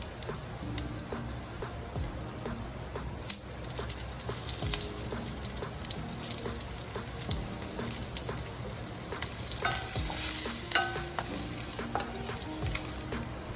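Dried red chili, hing, split green chilies and ginger juliennes sputter and sizzle in hot oil in a pan, a continuous crackling fry punctuated by sharp pops and scraping stirs, close and steady with no talking.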